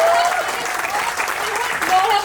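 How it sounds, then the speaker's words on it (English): Clapping from a TEDx audience, dense and steady throughout, mixed with voices talking over it. "can we have a round of applause"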